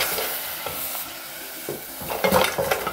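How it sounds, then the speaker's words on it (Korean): Anchovies stir-fried in a heated pot over low heat, a dry crackling sizzle with scraping stirs that grow louder and busier near the end, with light clinks of a utensil against the pot. "멸치를 한번 볶아주세요."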